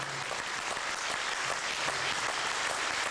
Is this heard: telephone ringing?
no